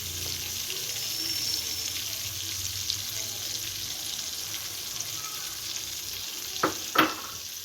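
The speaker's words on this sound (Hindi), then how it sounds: "और इसको चलाएंगे, अच्छे से मिक्स करेंगे।" A yogurt and chili curry stirred and mixed in a hot pan, a soft continuous sizzle with faint scraping of the spoon, ending in a couple of brief clacks.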